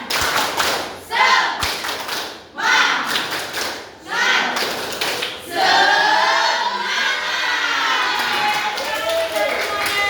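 A sixth-grade classroom performs a group clapping chant, several loud unison clap bursts in a steady rhythm followed by children's shouted chanting voices that carry on to the end.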